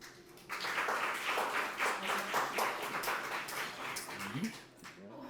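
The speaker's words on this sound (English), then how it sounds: "Give Mr. Williams another round of applause" Audience applause for a speaker at a community event, a sustained wash of steady clapping that swells and then fades over about five seconds, with a voice speaking near the end.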